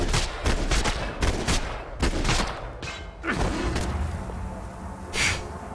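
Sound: gunfire in the video game Max Payne 3

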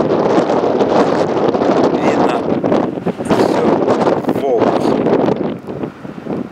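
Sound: very strong wind on a shore

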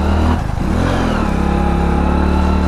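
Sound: motorbike engine straining up a steep climb

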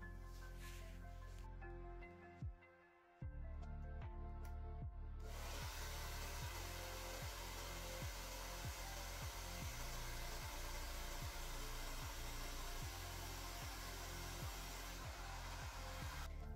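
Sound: hair dryer drying acrylic paint

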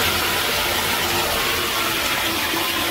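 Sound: water draining through a bathtub drain

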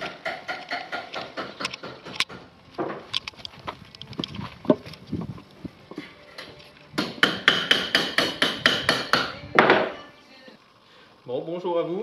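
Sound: metal clanging and hammering in a restoration workshop

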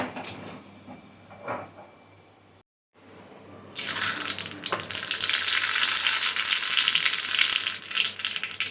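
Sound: hot tempering (phodni) added to buttermilk dish

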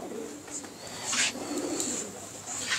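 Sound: pigeons cooing

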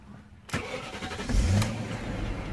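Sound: 2001 BMW 540i E39 engine starting up

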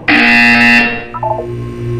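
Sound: buzzer in Portal 2 video game

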